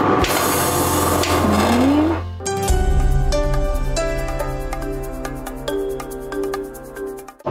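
Home oil press switched on and running, pressing seeds; a loud mechanical grinding drone cuts over to a steady motor hum with repeated sharp ticking and knocking clicks, close and continuous.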